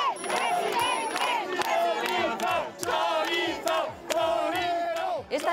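A divided crowd in the Valencian town of Alfafar shouts, boos and jeers as a loud chorus of overlapping voices, with scattered sharp claps cutting through the din.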